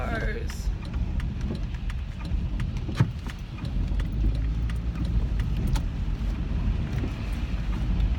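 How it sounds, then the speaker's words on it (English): Cars pass by in a steady, continuous traffic wash with a low engine rumble and occasional small clinks, faintly mixed with murmured voices. "So many cars."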